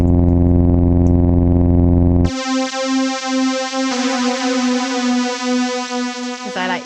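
A FoxDot synth bass line plays as a buzzy, harmonically rich sustained tone, then switches abruptly to a brighter, higher-pitched synth timbre that holds steady with slight pulsing, loud and alone without talk.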